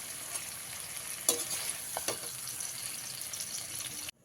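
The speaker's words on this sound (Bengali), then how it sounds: "কুমড়োটা আমি খুব ভালো করে ভেজে নিয়েছি" Pumpkin pieces fry in oil in a pan, giving a continuous hissing sizzle with a few brief clatters of stirring near the middle before the sound cuts off.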